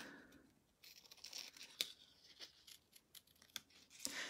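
Scissors fussy cutting around a stamped image on cardstock for a handmade birthday card, close, quiet snips and paper rustles coming in irregular bursts, with a few sharper clicks and no talking.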